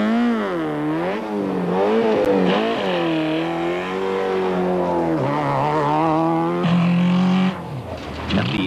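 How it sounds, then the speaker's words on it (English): Nissan rally car competing in the 1995 Castrol International Rally, its engine revving loud and close with an uneven, offbeat note, pitch rising and falling continuously through the stage finish. "At the end of the stage, the Nissan motor sounds decidedly offbeat."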